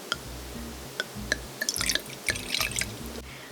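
Gamay red wine is poured into a glass, heard as a quiet run of drips and small splashes that thicken into a brief trickle midway.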